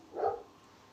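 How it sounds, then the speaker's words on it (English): A dog lets out one short, muffled bark somewhere indoors, a brief moderate burst that fades quickly into quiet room tone. "Sorry about my dog."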